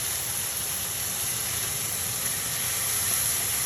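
A steady, continuous hiss of tomato sizzling in a hot pan, loud and close, holding an even level throughout with no voices.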